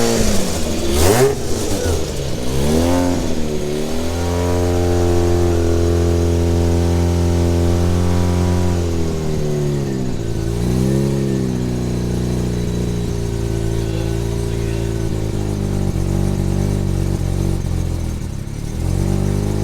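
A half bridge-ported Mazda Renesis rotary engine revs loud and close, climbing sharply, settling into a steady high buzzing hold, dipping, then rising again into a sustained, raspy drone.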